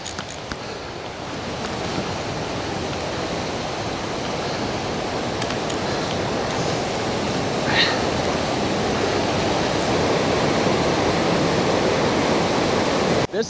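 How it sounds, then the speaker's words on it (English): Swollen spring river runs fast and deep across a hiking trail, a loud, continuous rushing roar that builds slightly over time, with no voices. "the water's a lot higher than normal. So I don't really want to go through there because it looks like it's going fast and it's deep"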